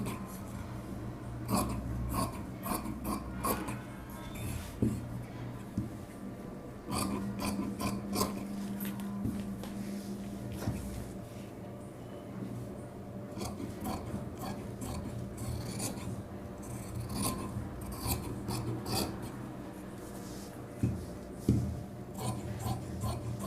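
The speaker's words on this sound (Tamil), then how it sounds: "பேக் பார்ட்டை இப்போ வந்து நம்ம கட் பண்ணிக்கலாம்." Scissors cut through cloth for the back piece of a size 46 blouse, with close rasping snips and fabric rustle coming in clustered bursts and short pauses.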